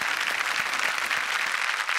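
A studio audience on a Marathi comedy show applauds, dense steady clapping filling the short moment at full volume with no voices over it.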